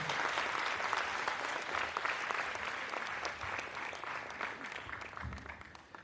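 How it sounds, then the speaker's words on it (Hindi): A hall audience gives a dense, sustained round of applause to welcome Dr. Chinmay Pandya to a discourse, steady and full at first, then thinning slightly toward the end. "तालियों के गड़गड़ाहट के साथ"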